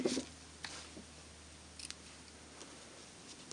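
Scissors snip washi tape during paper crafting, a few quiet, crisp cuts scattered across an otherwise hushed room with low background hum, no speech.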